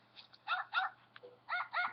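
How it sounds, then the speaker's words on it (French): A cartoonish beagle barks in the Nintendogs handheld game, with about five short, moderately quiet yaps in an uneven rhythm over a faint steady hum. "Donc là c'est un chien."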